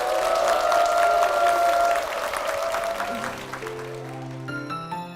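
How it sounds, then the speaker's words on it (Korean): A congregation at Dongtan Zion Church gives warm applause of blessing. The full, lively clapping gradually thins out as soft sustained keyboard tones rise toward the end. "축복의 박수 부탁드리겠습니다."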